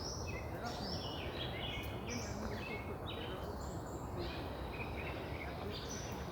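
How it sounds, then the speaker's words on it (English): Birds chirp outdoors in New York, a scatter of short, high, repeated calls from several birds at middle distance over a steady, faint background hiss. "The birds are chirping."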